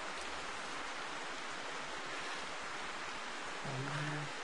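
Steady hiss of rain in the video game The Hunter, a constant wash of noise with no gaps, and a short low tone near the end.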